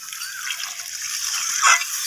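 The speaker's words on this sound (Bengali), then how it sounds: "এখন আমি এখানে প্রয়োজন মতো জল দিয়ে দিলাম" Water poured into a simmering pot of rohu fish curry with pointed gourd and raw pumpkin, a brief steady splashing pour up close that swells briefly near the end, with no talking.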